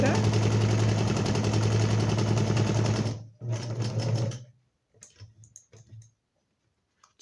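A home sewing machine runs steadily stitching a straight seam in fabric for about three seconds, a dense loud whir, then stops into a few short bursts and soft handling sounds.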